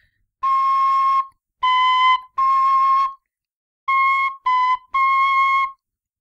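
Six short half-holed notes on a carbon fiber tin whistle sound near and clear in uneven groups with pauses between, holding nearly the same pitch, with no talking.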